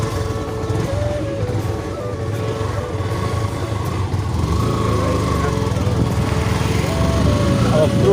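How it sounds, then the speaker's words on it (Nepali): A motorcycle engine drones steadily while riding, close and loud throughout, its pitch shifting slightly as the bike moves, with some mechanical rattle in the mix. "अब प्रो राइडरले आज बाइक चलाइरहेको छ हाम्रो"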